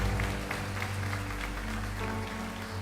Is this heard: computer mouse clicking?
no